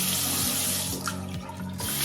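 Water running steadily from a newly installed kitchen faucet into a sink, a continuous close hiss and splash with faint knocks as the movable spout is shifted back and forth, no talk.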